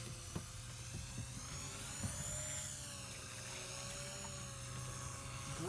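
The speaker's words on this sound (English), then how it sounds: "Great flying little helicopter." A small Blade Fusion 180 flybarless RC helicopter hovers with a steady, faint whining buzz of its rotors and motor, flown off a boat, with no talk.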